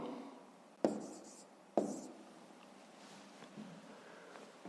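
Handwriting on paper during a fifth-grade maths exercise: two sharp taps of a pen against the page, then soft, faint scratching strokes that continue quietly, near and alone.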